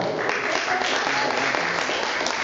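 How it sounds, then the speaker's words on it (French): Dense, even applause from an audience at a gathering hosted at the Musée Masséna, clapping for their president; a loud, continuous wall of clapping with no break. "Mesdames et messieurs, applaudissez votre président."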